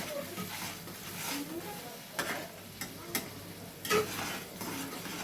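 Potato and cauliflower curry with green peas sautéing in a wok, a quiet sizzle under light stirring with a few sharp spatula scrapes and taps against the pan.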